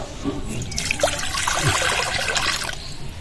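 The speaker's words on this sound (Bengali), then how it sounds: "কড়াইটা বসিয়ে দিয়েছি এবার জল দিয়ে দেবো" Water poured into a wok, a steady splashing trickle up close that fills the whole short stretch, with no voices.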